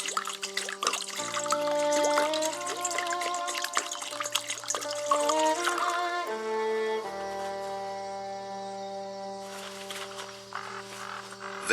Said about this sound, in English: Pour the water into the bucket.